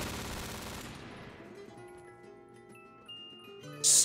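MG36 gunfire in Black Ops 3 Zombies: a dense burst of rapid automatic shots at the start that fades into a ringing tail of game music tones, with a sharp bright hit near the end.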